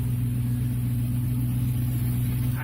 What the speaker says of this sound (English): Alright, so I've got the car running now.